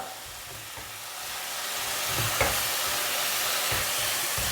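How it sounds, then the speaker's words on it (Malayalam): Carrot halwa with sugar and ground cardamom being stirred in a pan, giving a soft, steady sizzling hiss with faint scraping strokes near the middle and no voices. "ഏലക്കയും ചേർത്ത് നന്നായിട്ടൊന്ന് ഇളക്കിയെടുക്കാം"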